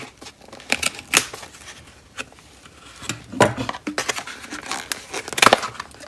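Scissors snip and crinkle through the foil wrapper of a My Little Pony booster pack, with sharp irregular cuts and rustles close up over several seconds and no talk.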